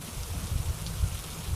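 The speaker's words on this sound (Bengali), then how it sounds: "সন্ধ্যার পর আবার বৃষ্টি আরম্ভ হয়েছিল" Rain falling steadily as a sound effect, a dense, even wash of patter with a low rumbling undertone, close and continuous throughout with no voices.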